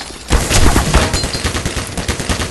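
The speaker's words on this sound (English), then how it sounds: "I'm shooting at it" Rapid gunfire from a gun in the video game Black Mesa, a dense burst of sharp shots in quick succession, loud and close, with no talking.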